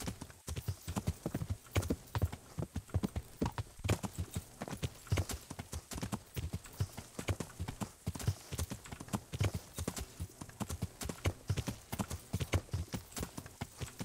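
Steady horse hoofbeats clip-clop at a brisk riding pace in the medieval video game Kingdom Come: Deliverance, loud and continuous with no talk over them.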